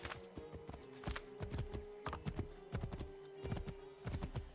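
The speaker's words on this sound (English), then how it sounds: "there's no need to call the horse when there's a horse right over here I can grab" Rapid clip-clopping hoofbeats of a horse in Assassin's Creed III, a steady galloping rhythm of sharp thuds running throughout at moderate loudness with no speech.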